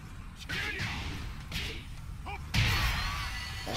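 Combo hits in the fighting game Tekken 7: a quick series of sharp whooshes, thuds and smacks in bursts, the last impact heaviest, playing fairly quietly.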